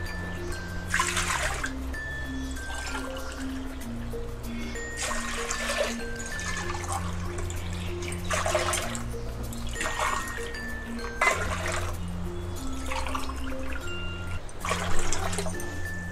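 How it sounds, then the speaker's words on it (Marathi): Water is poured into a cooking pot of barnyard millet in several short splashing bursts, each followed by a pause, close by, with a steady low hum and faint music underneath. "तर आपण तिप्पट पाणी टाकायचं, म्हणजे 6 ग्लास पाणी टाकायचं"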